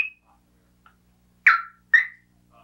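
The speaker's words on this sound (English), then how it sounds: "There's a physical motion sensor in the form of a fairly normal car alarm on Go Box." A fairly normal car alarm serving as a physical motion sensor on the Go Box chirps in short, sharp bursts: one brief tone, then two louder, clear chirps about half a second apart, with no talk.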